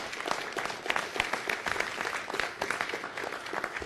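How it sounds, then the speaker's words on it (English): Steady applause from a crowd at a city council meeting, dense clapping that holds at an even level for several seconds with no voices over it. "Give them a round of applause."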